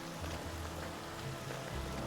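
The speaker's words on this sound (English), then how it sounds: "The rain being better, that's a mod." Steady modded rain in Skyrim hisses in an even wash, with a low rumble beneath it and no clear breaks or single drops standing out.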